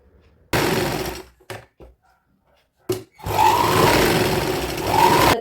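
A sewing machine stitches satin and net fabric together for a child's frock, running in short, loud bursts separated by brief pauses, with a longer, steady whirring run near the end.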